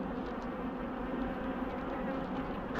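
Honeybees buzz around an opened hive in a dense, steady drone that holds at even loudness throughout, close and continuous with no talk.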